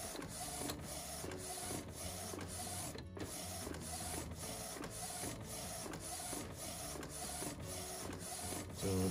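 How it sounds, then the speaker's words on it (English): A DTF roll printer runs steadily, feeding a 12-inch roll with a rapid, regular mechanical chatter and repeating print-head passes, close and continuous with no talk. "Everything is just tightening, and the printer is printing that fast."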